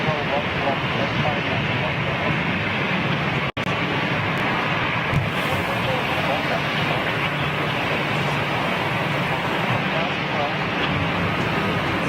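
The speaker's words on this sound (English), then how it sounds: "It's a little Lufthansa regional going out." A Lufthansa regional aircraft takes off at Zurich Airport with a loud, steady broadband roar mixed with wind buffeting, and people talk nearby.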